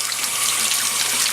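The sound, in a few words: rinsing Nitrosorb filter media under running tap water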